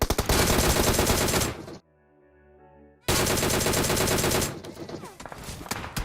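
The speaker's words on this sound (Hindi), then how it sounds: "पीछे कहीं ओपन से गोलियां चलने लग जाती हैं" Rapid PUBG Mobile gunfire, including a DP-28 light machine gun, rattles loudly in sustained bursts, cut by a brief near-silent gap, then resumes at full intensity before tapering into scattered shots.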